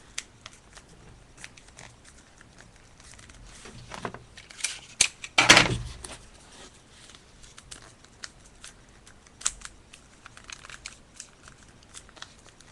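Sheet of paper being folded and creased by hand into a paper throwing knife, with soft crinkles and one louder crisp crunch of paper, close up and quiet with no talking.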